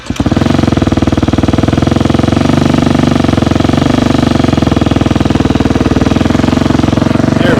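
A 2024 Beta motorcycle engine runs loud and close with a rapid, steady pulsing thump, holding an even beat throughout as the bike pulls away.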